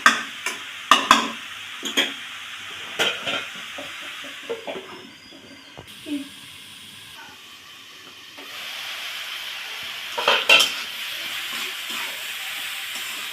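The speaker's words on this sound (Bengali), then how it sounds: "এবার নাড়াচাড়া দিয়ে আমি একটু এটা ঢেকে দেবো।" A spoon stirs bottle gourd with moong dal in a pan, giving a series of close scraping strokes and knocks over a soft, steady cooking hiss and sizzle.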